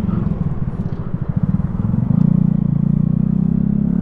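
A Honda MSX125 motorcycle ridden on the road for a commute, its small single-cylinder engine putting out a close, loud, pulsing rumble that steadies into a continuous drone as it pulls along.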